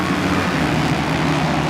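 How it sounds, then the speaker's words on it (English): Motocross bikes revving together at the starting gate of a professional race, a dense, steady engine roar filling the short stretch without pause. "Revs are up. Gates down."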